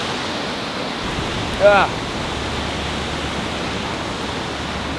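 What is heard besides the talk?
river waterfall rushing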